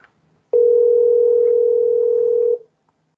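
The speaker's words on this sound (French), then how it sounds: "il y a le téléphone qui sonne" A telephone rings during a municipal council session: one loud, steady electronic tone held for about two seconds, clear and alone, with no talk over it.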